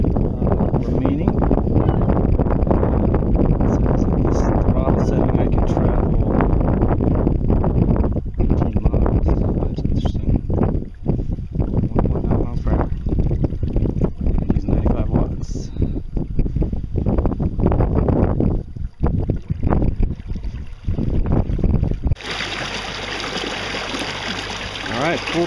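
Torqeedo electric outboard motor pushing a sailboat at full throttle, a steady broadband wash of water and wind noise running throughout, with a brief quieter change near the end.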